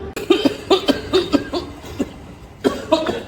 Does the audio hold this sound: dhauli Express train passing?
no